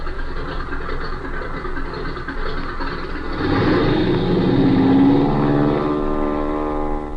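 Propeller airplane engine from a 1932 radio serial, a steady droning hum that swells louder midway and holds with a rising tonal whine, no voices over it.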